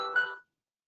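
A phone ringtone sounds briefly and close, a short tonal chirp lasting under half a second before cutting to silence.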